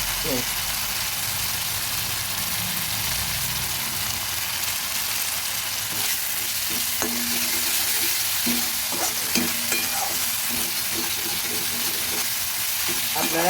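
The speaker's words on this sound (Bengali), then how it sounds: "আমার মশলাটা ভাজা হয়ে গেছে" Spice masala fries in a pan for a vegetarian banana-flower dish, giving a dense continuous sizzle with scattered stirring scrapes and clinks close by, and faint speech beneath it.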